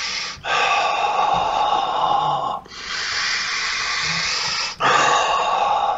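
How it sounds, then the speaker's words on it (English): Slow, deliberate breaths during a guided meditation, drawn in through the nose and let out through the mouth. Three long airy cycles, close and clear, with brief pauses between them and no talking. "Breathing in the nose and out of the mouth."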